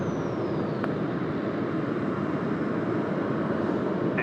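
American Airlines airliner rolling for takeoff at Sydney Airport, a steady broad engine roar heard from a distance, constant and unbroken with no voices.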